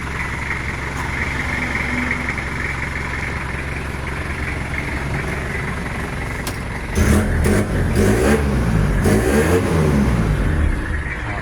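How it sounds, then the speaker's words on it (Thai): A 1995 Toyota Mighty X pickup engine idles with a steady, close rumble, then gets blipped through several sharp revs that rise and fall in quick succession. "เดี๋ยวผมจะเบิ้ลให้ฟัง"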